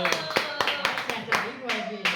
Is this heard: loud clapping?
yes